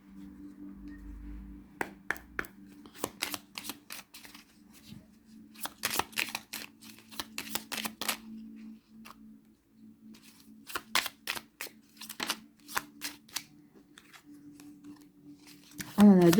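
Tarot cards are shuffled and laid out on a table in a series of crisp, irregular flicks and slaps, some clustered and some single, beneath a faint steady hum, with quiet talk nearby.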